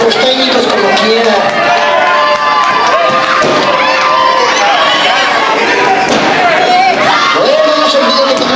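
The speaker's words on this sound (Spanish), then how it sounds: "Un aplauso por los técnicos como quiera." An audience at a live show applauds the technicians, loud continuous clapping mixed with cheers and shouting voices throughout.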